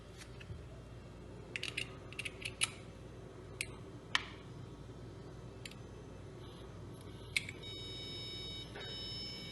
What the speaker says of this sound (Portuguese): o buzzer apitou, apareceu a mensagem aqui, de vazamento detectado